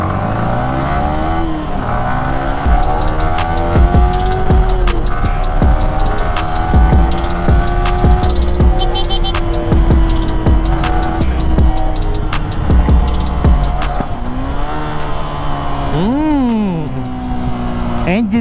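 Motorcycle engine on a road with the revs dropping under engine braking, a loud continuous drone with falling pitch sweeps, set among passing traffic; a rider talks over it throughout.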